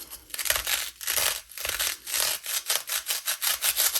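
An old kitchen tool cuts slowly through styrofoam to make a round hole for a yarn-wrapped mini pumpkin, giving loud, close, squeaky sawing strokes in a steady back-and-forth rhythm with no talk.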